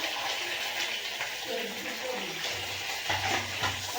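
Onion and green chili frying with garlic in a pan, a moderate steady sizzle with faint stirring, and a voice speaking over part of it.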